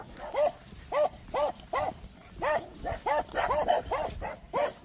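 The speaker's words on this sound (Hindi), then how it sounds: "घर पास आते आते मेरी स्वागत करने के लिए पड़ोस के 3 कुत्ते" Three neighbourhood dogs bark in welcome nearby, a run of about a dozen sharp, evenly spaced barks that quicken and overlap toward the end.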